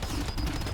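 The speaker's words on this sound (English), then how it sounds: "can we trigger a nice little set of explosions?" Rapid crackling explosions break up asteroids in a space video game, a dense, continuous burst of blasts filling the whole short moment without talk.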